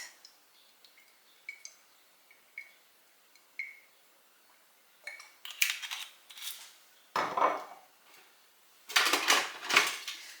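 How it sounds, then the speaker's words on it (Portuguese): Couscous being stirred with olive oil in a pot, light scraping and clinking of a utensil against the pot in scattered strokes, growing into louder rough scrapes, close and without talk. "Vamos mexer muito bem."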